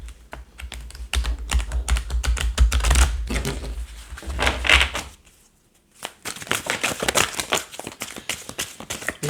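Oracle cards are shuffled by hand, with rapid crisp flicking and riffling bursts, some cards flying out, close and loud, a brief pause in the middle before the shuffling resumes.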